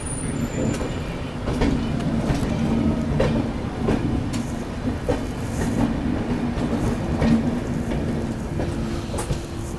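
The Bundelkhand Express runs on its tracks near Jhansi, a steady rumbling roll with rhythmic clicks of wheels over rail joints, heard from inside the moving train with no voices.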